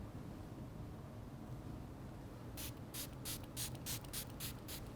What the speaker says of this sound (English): then we're going to follow that up with a second neutralizing spray